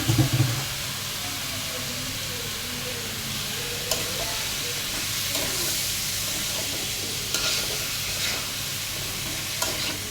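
Beef tongue and potatoes sautéing in a pan, a steady broadband sizzle with scraping stir strokes at intervals, close and continuous with no talk.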